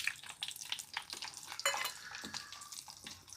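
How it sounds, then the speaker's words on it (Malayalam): Dried red chillies frying with urad dal and chana dal in hot oil after mustard seeds have popped, a faint, crackly sizzle with irregular spitting pops and light stirring. "2-3 വറ്റൽമുളകും ഇട്."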